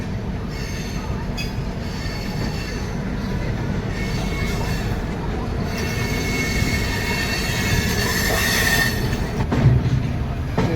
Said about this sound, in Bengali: সামনে এটা Howrah Jodhpur express Pandit Deendayal Upadhyay station enter করছে।